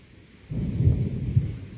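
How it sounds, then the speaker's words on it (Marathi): Low, heavy rumbling rises suddenly and rolls on steadily, like nearby thunder, with no voices present. "गरजायला लागले."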